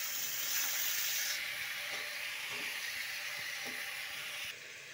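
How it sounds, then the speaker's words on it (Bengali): Sweet pumpkin pieces frying in a pan with salt and turmeric, a steady close sizzle and hiss with occasional soft stirring scrapes throughout. "লবণ হলুদ দিয়ে এগুলো একটু নাড়াচাড়া করে নিব। এগুলো একটু ভাজা ভাজা হইতে থাক।"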